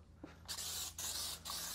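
A handheld spray bottle mists water onto a car wheel to dilute cleaning product and flush residue, giving three quick, close hissing bursts in succession.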